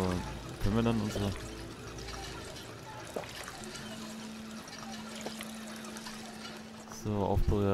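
In Fallout 4, a water pump gurgles as purified water fills, with short bursts of pouring and bubbling at the start and the end around a low hum, while a person talks.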